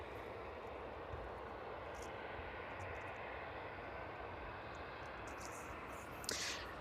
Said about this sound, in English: The DHL 757 inbound from Reykjavik, just touching down on 27